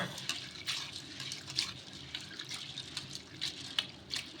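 Sago pearls being rinsed in water: continuous close sloshing and trickling with small splashes and drips in an irregular rhythm.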